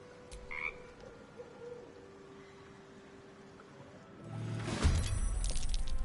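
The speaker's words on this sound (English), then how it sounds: "It ribbits erratically as if in pain. It shies away, croaking a warning, eyes wide in terror." A frog in a video game croaks and ribbits erratically as if in pain, a short croak near the start, then a louder rough burst of croaking near the end over quiet ambient game sound.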